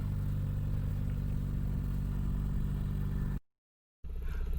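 A car engine idles during an engine flush, a steady low hum with even mechanical clatter that runs unbroken, then cuts to silence and resumes briefly.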